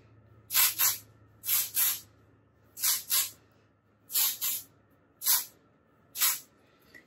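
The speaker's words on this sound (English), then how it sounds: "I'm actually gonna use this texture spray." Texture spray hisses onto hair in short bursts, mostly quick doubled pumps, about seven sprays in all, close and crisp against a quiet background.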